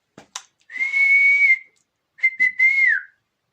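A person whistles two sustained, steady notes, the second ending in a downward slide, with brief breathy sounds in between.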